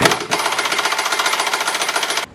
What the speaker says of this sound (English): we are going to use our impact gun to zap off that 21mm bolt